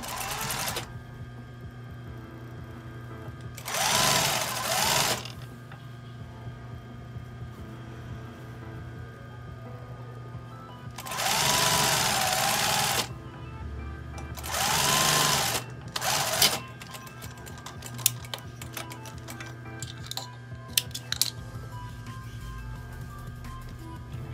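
A sewing machine stitching the waistband seam of an A-line skirt, running in several loud whirring bursts of a few seconds each, separated by quieter gaps with faint clicks and handling noises.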